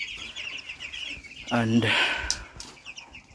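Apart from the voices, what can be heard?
baby chickens clucking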